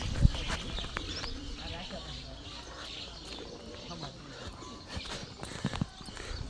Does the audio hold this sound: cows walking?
yes